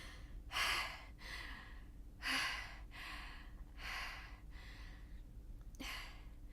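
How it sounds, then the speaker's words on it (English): A person breathes heavily after jogging: slow, rhythmic deep breaths, each a loud airy exhale or gasp roughly every second and a half, close and with no talk. "Just let me catch my breath."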